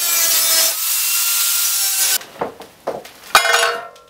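Wood being sawn by hand to cut strap slots in a wooden bracelet: a steady rasping stroke runs for about two seconds, then shorter, separate sawing strokes follow, close and fairly loud.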